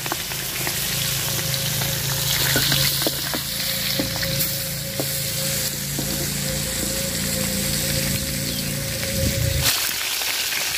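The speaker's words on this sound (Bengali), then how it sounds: "মাছ আমি লাল লাল করে ভাজা নিচ্ছি" Loud, continuous sizzling of tilapia fish frying in hot oil with crackles and occasional stirring clinks, steady until it suddenly drops off near the end.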